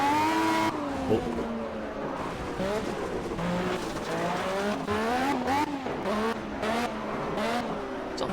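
A race car rolls along a long pit lane in the Project CARS racing game, its engine note rising and falling steadily with shifting revs and faint tire noise, while a voice briefly exclaims over it.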